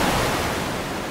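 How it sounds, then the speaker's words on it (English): Ocean surf and splashing water from a ship plunging into the sea, a steady broadband wash that stays loud and constant through the short moment with no break. "The ship splashed into the ocean."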